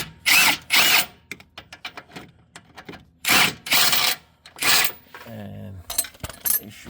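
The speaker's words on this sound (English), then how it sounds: "right now I am going to take it with the impact wrench" Impact wrench on a 2007 Lexus RX350 during a rack and pinion replacement, firing several loud, rattling bursts of about a second each with short pauses between them, close up, then lighter clinks of metal.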